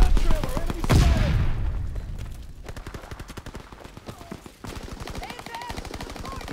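Rapid machine-gun bursts and rifle fire crackle through a Call of Duty WWII multiplayer Domination match on the Gibraltar map, with a loud burst up front and steady repeating shots that continue under voiced callouts.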